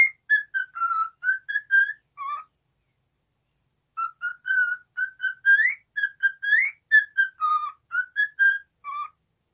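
A clear whistled melody of the Grêmio football club anthem, used to train a cockatiel: two phrases of short, bright, repeated notes separated by a pause, close and alone with no talk.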